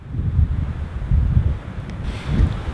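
Wind gusting against a microphone outdoors in open country, low rumbling buffets that swell and ease in uneven pulses, loud and close.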